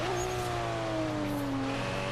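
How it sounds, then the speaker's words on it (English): High-pitched turbo whistle from a race car on a rally-cross course in Forza Horizon 3, a thin rising and falling tone over a steady engine drone with no gaps. "This car has an interesting turbo whistle whenever you shift up"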